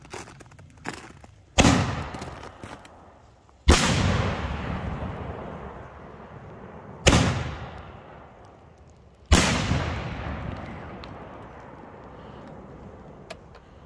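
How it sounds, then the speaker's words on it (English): Aerial fireworks shells, a V-shell alternating with a 7-inch weed shell: four loud sharp bursts at roughly two-second gaps, each decaying into a long crackling rumble and echo outdoors. "So the first one's a V-shell, and then it'll be 7-inch weed shell,"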